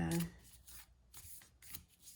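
Tarot cards are shuffled by hand in a few quick, quiet riffling bursts heard close up, with a faint voice in the background.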